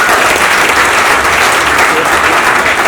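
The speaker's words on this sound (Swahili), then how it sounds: "Tungeomba tuwapigie makofi wakati kila mtu msimame" Loud, dense applause from a room of standing staff at a company gathering, a continuous wash of many hands clapping together without a break, close and full.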